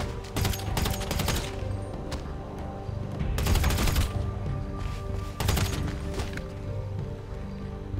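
Gunfire in a GTA5 zombie mod game: a few loud clusters of rapid shots and sharp impacts stand out over a steady droning background.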